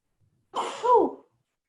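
A single close sneeze, short and sharp with a breathy intake before it, in an otherwise quiet room.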